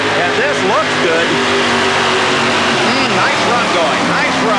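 A four-wheel-drive pulling truck from Louisville, Kentucky roars loudly under power at an indoor truck pull in the Houston Astrodome, a continuous engine drone with rising and falling revs beneath an announcer's steady talk and crowd noise.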